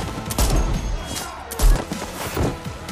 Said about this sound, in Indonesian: Terdengar suara tembakan dan teriakan.